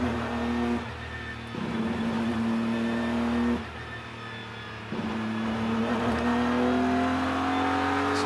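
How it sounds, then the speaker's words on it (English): GT race car accelerating hard through the gears at Indianapolis, its loud, steady engine note climbing in pitch, briefly dropping at each upshift, then rising again throughout. "We start to wind it up through the gears."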